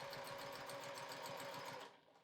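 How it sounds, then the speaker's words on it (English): A sewing machine quilts along a marked diagonal line on a beginner charm-pack quilt, its steady rapid stitching rattle running loud and close before stopping near the end. "It's the quilting length I really like on this machine, so I'm just gonna go ahead and get started."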